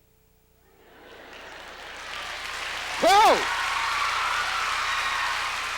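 A comedy show audience breaks into clapping that swells from nothing to a loud, sustained wall of applause, with a sharp rising shout of a yell standing out in the middle.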